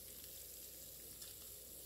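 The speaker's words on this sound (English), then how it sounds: "Can you hear sizzling happening?" Buttered food sizzles in hot Tupperware cookware at 425 degrees, a faint, even crackle that runs without a break and has no voices over it.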